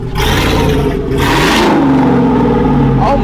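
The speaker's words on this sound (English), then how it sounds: "Pat the gas one time." A bagged, heavily lifted Chevrolet Silverado 1500 on 30x16 custom wheels revs loudly and close as the gas is pressed, a sustained roaring engine swell with a voice briefly over it.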